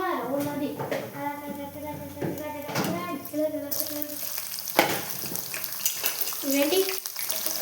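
Whole spices, shahi jeera and cardamom, hit hot oil in a pan for chicken curry and set off a loud burst of sizzling about halfway through, while someone talks over it.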